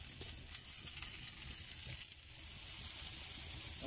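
Onion and pepper sizzle and fry in a pan over an open fire outdoors, a steady close crackling hiss throughout with small irregular pops and no voices.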